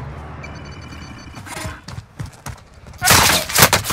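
Gunfire in Call of Duty: Modern Warfare, several sharp shots and short bursts cracking in irregular succession, building to a loud dense volley near the end, with quiet game ambience before.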